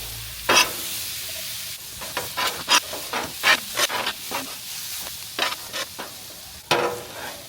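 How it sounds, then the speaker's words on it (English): Vegetables cook in bacon grease on a griddle, sizzling steadily while a spatula scrapes and stirs them in repeated sharp strokes. "I'm gonna scoop that bacon grease that's at the back and get it in my veggies."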